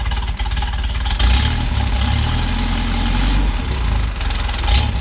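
A cold Mercedes-Benz 190SL engine idling with a low, steady rumble, uneven and a little slow, running continuously with no talk.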